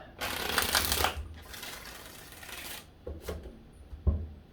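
Playing cards are shuffled several times close up: two longer riffling bursts, then two short quick ones, with quiet pauses between.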